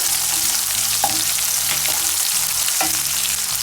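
Onion and garlic cloves fry in a pan with a constant close sizzle, broken by a few soft stirring scrapes and taps.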